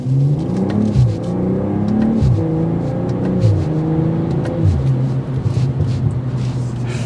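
A 2024 BMW M340i engine accelerates hard from a rolling start through several upshifts, each marked by a quick dip and sharp exhaust cracks, loud and close.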